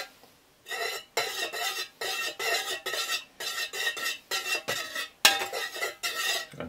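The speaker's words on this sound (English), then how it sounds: "The more you stir it, the quicker it cools down." A spoon stirs a small amount of melted candle wax in a container, giving a series of close, quick scraping strokes in uneven rhythmic bursts separated by short pauses.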